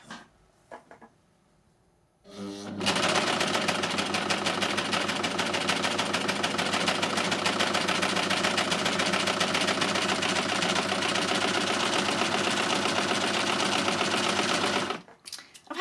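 A Lucie overlocker by Success stitches through fabric, running at a steady high speed for about twelve seconds after a brief start, loud and continuous with no talk, then stopping abruptly.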